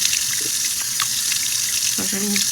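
Tap water runs steadily into a bathroom sink during a morning face-rinsing skincare routine, a constant close hiss with faint splashes and a brief voice near the end.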